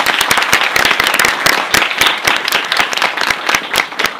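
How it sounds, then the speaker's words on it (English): A lively round of applause from a seminar audience at a breakfast panel discussion, with close, sharp individual claps standing out in a fast irregular patter. "So give them a big round of applause"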